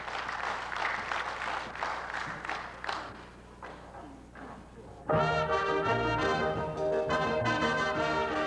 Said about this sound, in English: let's get a round of applause introduction to Luther